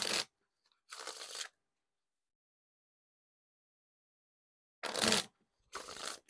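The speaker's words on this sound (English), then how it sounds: "And now time for the riffle shuffle or bridge shuffle." SpongeBob SquarePants Fontaine playing cards are riffle shuffled: two quick rippling bursts, a long silence, then two more crisp riffles, each close and sharp.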